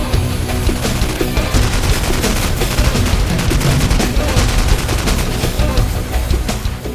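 Firearms fire on a Las Vegas gun store range in loud, dense, rapid bursts, echoing shot after shot with no pause.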